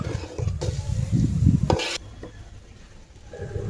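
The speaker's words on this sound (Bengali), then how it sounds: "এগুলো দিয়ে আবার ভালোভাবে চাল আর ডালের সঙ্গে মিশিয়ে নেব নেড়ে চেড়ে।" Spiced rice and lentils being stirred as they fry in oil in a pan over low heat: a close, steady sizzle under repeated scraping strokes of a spoon, with two sharp clatters partway through.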